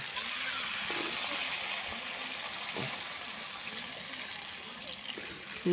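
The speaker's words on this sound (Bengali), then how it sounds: "এই জল ঢেলে দিচ্ছি।" Water pours steadily into a pan of shrimp and cauliflower curry, a continuous soft splashing trickle with faint clinks, under quiet background noise.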